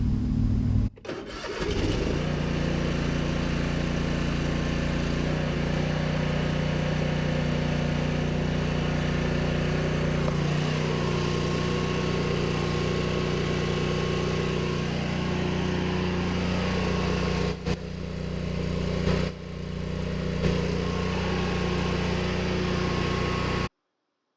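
A riding lawn mower's small engine cranks and catches, then settles into a steady, loud running drone close by, just after an oil and filter change.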